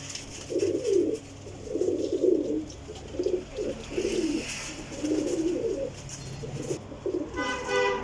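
Rampuri pigeons coo in a series of low, rolling calls, repeating at a loose rhythm close by, with a short horn-like toot near the end.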